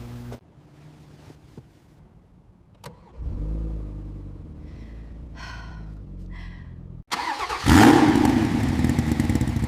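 A Porsche 992 GT3 RS starts with a crank and catch, idles with a low rumble, then revs sharply into a loud, close roar.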